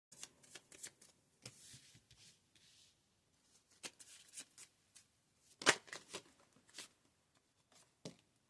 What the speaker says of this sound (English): I'm going to shuffle a few more times, then we'll get to it.